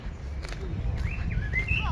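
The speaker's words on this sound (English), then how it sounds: "Lots of birds." Birds in the Athens National Garden give a few short, thin chirps and twittering calls near the end, fairly close, over a low outdoor rumble with soft steps.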